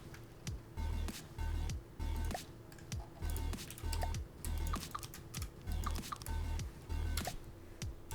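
Typing on a Swedish computer keyboard, a steady run of close, quiet key clicks and taps alone, with a low recurring hum underneath.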